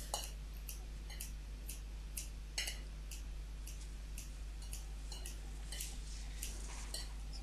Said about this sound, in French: But it's much easier in a bowl with a pair of scissors.